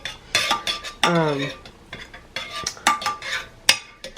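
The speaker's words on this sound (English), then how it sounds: "take your spoon and just spread it around so things don't stick" A spoon spreads sauce across a baking dish for chicken alfredo roll-ups, producing repeated close scraping and clinking against the dish in an irregular rhythm, with a few brighter ringing taps.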